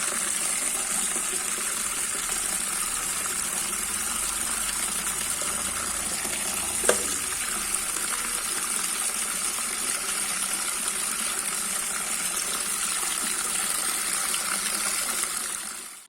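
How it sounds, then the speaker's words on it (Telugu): Steady gushing water runs continuously for the whole stretch as a tap fills a washed tub, with a brief knock partway through. "గాబు గడిగి వాటర్ అయితే పట్టేశాను"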